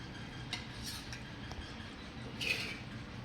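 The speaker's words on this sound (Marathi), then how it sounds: "आता आपण गॅस बंद करूया आणि चटणी काढून घेऊया" Dried Bombil chutney is scooped out of an iron griddle, a quiet scene of a few light metallic scrapes and clinks with a brighter scrape near the end.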